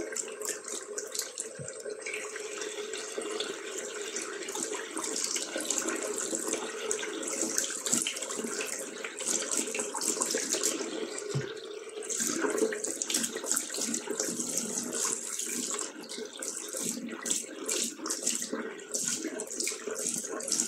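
Hot water runs steadily from a tap in an upstairs home, a continuous broadband splashing rush lasting the whole stretch at close range, with no talk over it.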